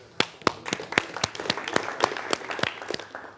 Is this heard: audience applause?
yes